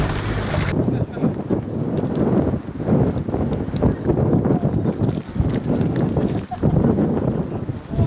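Strong wind buffeting the microphone at the Mar Saba Greek Orthodox monastery in the Judean desert, a steady roaring rush with gusty swells throughout, loud and close.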